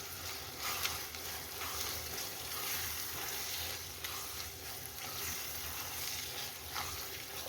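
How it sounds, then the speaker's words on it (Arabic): Tomato sauce and garlic being sautéed in a pan, a steady close sizzle and hiss of frying with occasional stirring scrapes, continuous and fairly quiet. "اشوحه كده مع بعضه تشويحه حلوه"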